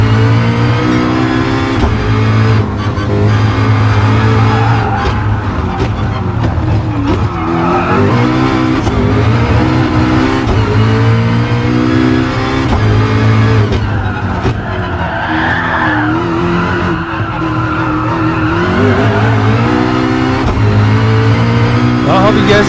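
A McLaren P1 GTR race car roars through Kyoto Driving Park in Gran Turismo Sport, its engine loud and sustained with rising and falling revs, gear shifts and tire skids, a voice talking briefly over it.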